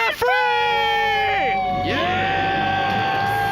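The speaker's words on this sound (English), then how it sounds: "Let's hear a debt-free scream." A studio crowd of several people lets out a long celebratory scream to mark becoming debt-free, a loud sustained chorus of high voices that dips and rises again, close to the microphone.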